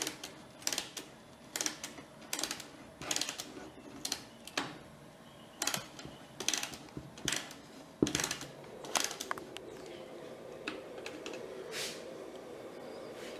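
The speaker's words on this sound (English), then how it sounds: "So I'm just tightening up screws here." Screws are tightened on the frame of an LED deer antler chandelier with spacers, producing bursts of sharp metallic clicks and ratcheting in an irregular rhythm, close and fairly quiet, giving way to a softer hum near the end.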